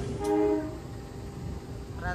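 Tawang Alun passenger train departing a station in East Java, bound for Malang Kota Lama; a brief horn blast at the start, then low rumble of the train, with another faint horn rising at the end.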